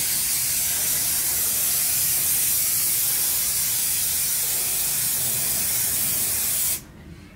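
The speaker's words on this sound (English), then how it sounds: "it actually has a really nice spray that doesn't go all over the place" Spray adhesive from an aerosol can hisses steadily onto fabric for dinette cushions in an RV renovation, one long continuous close spray that cuts off abruptly near the end.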